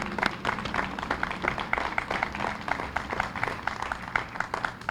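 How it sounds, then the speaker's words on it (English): At a women's suffrage ceremony, an audience applauds women councilors with sparse, steady clapping that is fairly faint and continues for several seconds without talking. "So let's give a round of applause for them"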